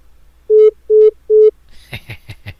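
Three identical, evenly spaced electronic beeps of a disconnected phone call, loud and steady, followed by a person talking.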